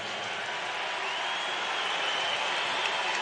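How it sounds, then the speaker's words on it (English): A basketball arena crowd applauds Ronny Turiaf during a Lakers–Warriors game, a steady dense wash of clapping and cheering from many spectators, loud and sustained throughout. "Ronny Turiaf, nice round of applause."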